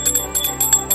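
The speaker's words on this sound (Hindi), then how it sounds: "तुम्हें कुछ चाहिए होगा तो उससे बजाओ, मैं आ जाऊंगा।" A small hand bell rung rapidly, with several quick bright metallic rings in an uneven jingling rhythm, close and fairly loud, with no speech.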